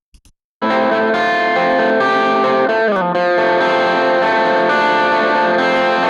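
A distorted electric guitar with EQ cutting down to about 150 Hz rings out loud with sustained chords, a brief pitch bend in the middle, then keeps droning on.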